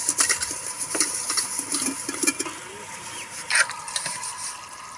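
Rice being washed by hand in a pot of water in a village home kitchen, with swishing, sloshing water and small clinking grains splashing in quick irregular bursts, close up over a soft background hiss.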